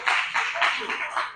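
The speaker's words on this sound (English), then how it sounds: "Well, give Russ a round of applause." A small audience gives a round of applause, a short run of distinct, uneven claps at moderate volume, with a few separate hand claps standing out.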